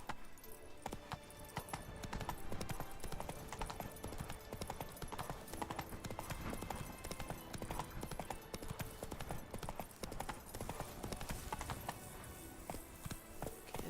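Roach, the horse in Witcher 3, gallops with rapid, continuous hoof clip-clops close by, a dense steady rhythm lasting the whole stretch, with faint jangling tack mixed in.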